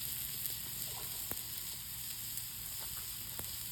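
A steak sizzles directly on hot coals outdoors, a steady dense hiss throughout with a few faint ticks and pops, close and without speech.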